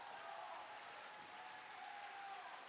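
A crowd at an esports event in Cali applauds the first-place champions of a 2v2 MultiVersus tournament, a steady wash of clapping and cheering held at an even level throughout.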